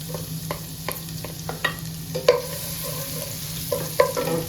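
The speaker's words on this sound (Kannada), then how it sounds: "ಮೊದಲು ನಾನು ಬೆಳ್ಳುಳ್ಳಿ ಫ್ರೈ ಮಾಡೋದು" Garlic frying in a pan for palak paneer, with quick spatula clicks and taps scattered over a soft sizzle and a steady low hum, close by and with no voices.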